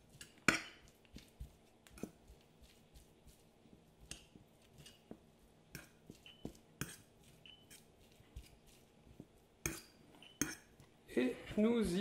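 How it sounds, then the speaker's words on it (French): Ingredients seasoned with salt and pepper are mixed in a bowl with cutlery, producing sparse, quiet clinks and scrapes at irregular intervals with near silence between them and a louder clattering burst at the end. "On mélange bien le tout."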